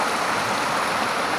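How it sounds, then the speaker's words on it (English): Rushing water from a waterfall along Burnt Pond Brook, a continuous broadband roar that stays steady and full with no breaks or voices. "This waterfall here is probably one of the bigger ones."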